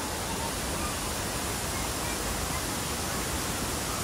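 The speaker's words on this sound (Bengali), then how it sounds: "এই যে বাকথাং ফলসের জলটা দেখুন ওপর থেকে যে নিচে নেমে আসছে" Bakthang Falls near Gangtok sends water crashing down from above in a constant, full-bodied rushing roar, close and steady, with no voices audible over the torrent.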